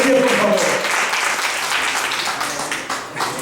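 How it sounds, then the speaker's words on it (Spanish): A church congregation gives loud, sustained applause, a dense wash of many hands clapping that fills the room and slowly fades. "Denme un aplauso fuerte al Señor."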